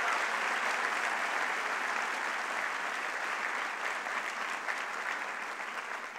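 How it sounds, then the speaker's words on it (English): Audience at a launch speech giving a sustained round of applause, dense even clapping that holds steady and eases slightly toward the end. "So please, let's get a round of applause for the CUNY Service Corps."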